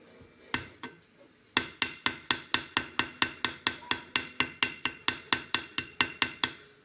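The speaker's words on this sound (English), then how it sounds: "So while I'm hammering this, I'm just twisting it ever so slightly." A bronze needle is struck repeatedly with a hammer in a workshop: a few soft taps, then a steady run of about twenty sharp, evenly spaced metallic blows, close and clear with no talking.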